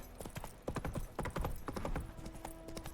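Roach the horse's hooves clip-clop steadily along a road to Vizima in The Witcher 3, a quick repeated beat of close, fairly loud hoofbeats running through the whole stretch with a faint tonal hum underneath.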